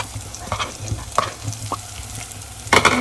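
Onion and cumin sautéing in butter for palak paneer, with close spoon scrapes and stirring strokes over a steady sizzle and a louder burst of frying near the end; no voices.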